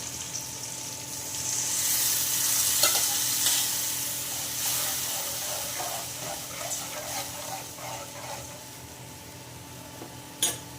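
A spice mix of pepper powder, turmeric and salt with coconut oil is poured into a hot pan for sardine gravy. It sets off a loud hissing sizzle that eases into steady frying with scattered pops and stirring clinks.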